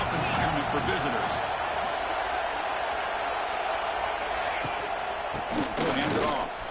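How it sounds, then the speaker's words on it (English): Dense, roaring stadium crowd noise from an NCAA college football video game, a constant loud wash of cheering early in a game, with a commentator talking over it. "Listen to the crowd energy here in the early going."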